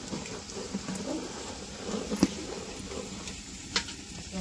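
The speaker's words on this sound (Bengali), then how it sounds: "আর এদিকে আরো মাংস রান্ধা হইতেছে" Meat cooks in a pot at a family home while pitha is being made nearby, with a low, continuous bubbling sizzle and occasional soft stirring knocks and clicks at moderate distance.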